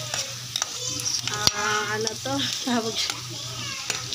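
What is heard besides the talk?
sautéing chorizo and kikiam in a pan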